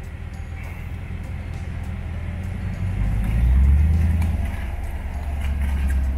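A vehicle pulls away and drives out on a trail near Coppinger Cove outside Tracy City, Tennessee. Its engine gives a close, steady low rumble that swells in the middle and holds, with no talking.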